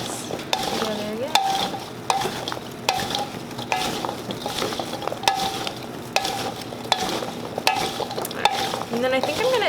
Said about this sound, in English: So I'm gonna mix these together again.